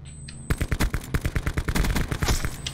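Rapid automatic gunfire from Call of Duty Black Ops 4, a loud continuous burst of evenly spaced shots lasting over two seconds after a brief quiet start, with no talking.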